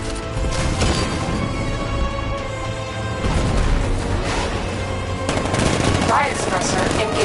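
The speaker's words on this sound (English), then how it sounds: "60mm cannon operational." In a Batman video game, a 60mm cannon on an unmanned tank fires in rapid, repeated bursts of heavy shots, loud and dense, with crashing impacts over a steady low engine drone.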